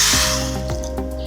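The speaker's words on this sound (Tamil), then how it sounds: "கொஞ்சமாக தண்ணி ஊற்றி" A little water poured from a vessel onto half a cup of jaggery in a home kitchen: a close, light trickle broken by a few distinct drips and splashes, with no voices.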